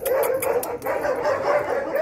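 A dog gives a short run of quick, close yips and barks with a whimpering edge, loud and alone over two seconds.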